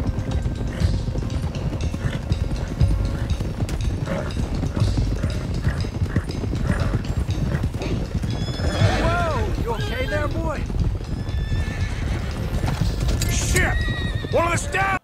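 Horses in Red Dead Redemption 2 whinny and neigh amid steady hoof clatter and a dense, busy background, with voices talking over the commotion.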